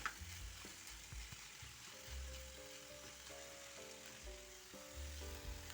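Vegetables and chicken with garlic are stirred in a frying pan, giving a faint, soft sizzle with occasional scraping under steady background music.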